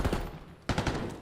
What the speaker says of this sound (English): Opening exchange of gunfire, not a whole lot of damage dealt.